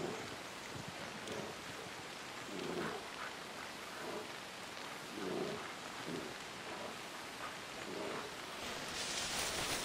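Steady rain in Assassin's Creed Odyssey, a dense continuous hiss of falling drops with soft low rumbles swelling now and then, no voices over it.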